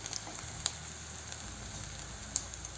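Chopped onions for pav bhaji sizzle steadily in a pan over lowered heat, a soft, even frying hiss with a couple of faint pops.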